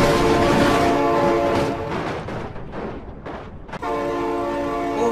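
A toy train scene with long cars and Thomas-style track play, where a loud, sustained train horn sounds with a rumbling passage, dipping briefly in the middle before the horn returns strongly.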